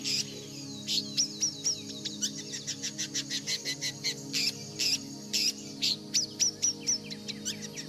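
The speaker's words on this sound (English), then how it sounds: "It was a shrike, with a body length of only about 20 to 23 centimeters and a weight of less than 50 grams." A shrike calls in dry California sunlight, a rapid series of sharp, high chirps repeating in quick rhythmic bursts, clear and fairly close over a faint low hum.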